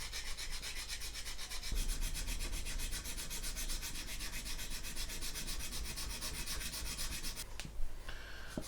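Steady rubbing of a sanding stick across the plastic deck of a 1/200 Trumpeter Bismarck model, continuous close scratchy strokes with a brief sharper scrape near the end.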